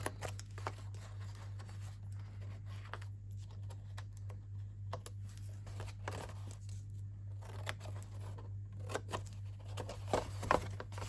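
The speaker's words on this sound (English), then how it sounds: "We're going to cut up each of these little tab score lines on either side" Scissors snip through card stock along small tab score lines and a mitre corner for a handmade card-set box, giving a run of quiet, crisp cuts over a steady low hum.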